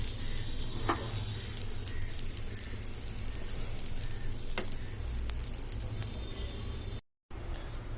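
Chicken kosha, a Bengali spiced chicken dish, sizzles and fries steadily in a pan with a constant close crackle, broken by a brief dropout near the end.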